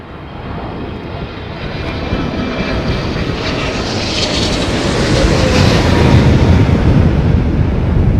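Jet airliner in Saudi livery at London Heathrow Airport during stormy weather, a broad roaring engine rumble that builds steadily in loudness as it passes fairly close, with no voices heard.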